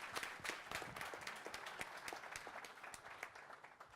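A town hall audience applauds, a dense stream of many hands clapping that is steady but faint and distant for the full four seconds, with no voices over it.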